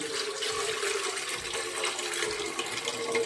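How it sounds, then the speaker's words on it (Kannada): A steady rush of water pours into a metal idli steamer pot for a few seconds, close and continuous. "ಇಡ್ಲಿ ಬಾಂಡೆದಾಗ ನೀರು ಹಾಕೊಂಡ್ರಿ."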